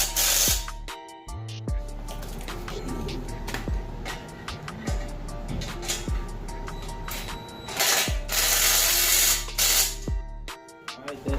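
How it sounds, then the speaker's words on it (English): A 17 mm wrench tightens a nut on a bolt while fitting a C10 engine onto an engine stand, with repeated close ratcheting clicks and metallic scrapes and a few louder hissy bursts. "Tighten it up with the 17 millimeter."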